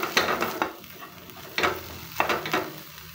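Garlic sautéing in a pan gives a busy sizzle broken by repeated scraping stirs, several bursts close together over a few seconds.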